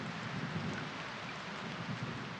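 Steady, dense rain hisses continuously with a low rumble beneath, no other sounds standing out.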